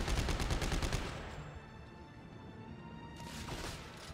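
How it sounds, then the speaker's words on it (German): Dead Space 3 gunfire: a dense, rapid burst of shots rattles loudly for about a second, then fades into a lingering rumbling tail, with a softer second burst near the end. "Schießen wir auch noch."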